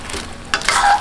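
A spoon stirs sweet potato turon through bubbling caramel in a frying pan, a short scraping swirl with soft sizzling that rises to a brighter clatter midway through the second.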